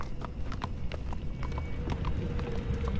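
Horse hooves clip-clop at a steady walking rhythm in The Walking Dead Season 4 game, a close, regular series of sharp knocks over a low background bed.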